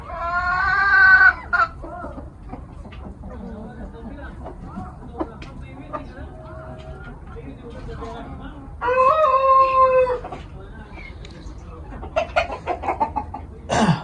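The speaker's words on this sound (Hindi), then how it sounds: "कुछ ये अंडों वाली मुर्गियां भी हैं इनके पास" Egg-laying hens and Ayam Cemani chickens clucking and squawking nearby in loud bursts, with people talking between the calls.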